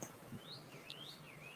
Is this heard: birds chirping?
yes